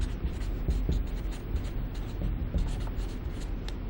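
Steady scratchy strokes of writing on a board during a geometry lesson on an isosceles triangle, continuous and fairly close, with faint tapping accents and no speech.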